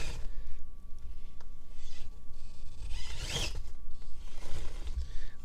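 Furitek Cayman Pro SZK prototype RC crawler with FCX24 transmission whirring in short jumpy throttle bursts, faint motor whine and gear clicks over rustling outdoor terrain, close by.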